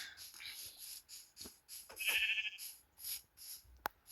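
Sheep bleating in the video game Minecraft, several short nasal bleats spaced across the moment, with a person talking alongside and a sharp click near the end.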